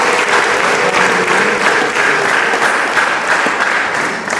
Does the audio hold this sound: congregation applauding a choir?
yes